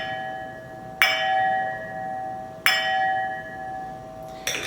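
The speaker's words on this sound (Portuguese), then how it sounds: "E a taça de cristal ela ecoa como um sino." Crystal wine glass struck twice and ringing like a small bell, each sharp tap followed by a long clear sustained tone that slowly fades, with a third tap at the end.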